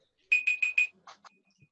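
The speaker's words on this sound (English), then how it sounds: "that's the end of the timer, as you can hear." A meeting timer alarm goes off in a remote meeting: four quick, loud electronic beeps in a steady rhythm, followed by a few softer tones and brief clicks, with no one talking.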